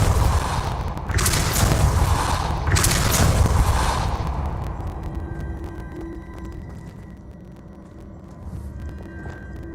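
The Depulso spell in Hogwarts Legacy fires off as two loud, broad whooshing blasts in quick succession. A rumbling tail follows and fades into quieter crackling game ambience.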